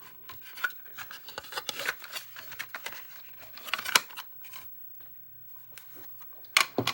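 Paper insert from a newly opened cassette tape being folded, giving repeated dry rustles, crinkles and rasps close by, with short quiet gaps and a sharper burst near the end.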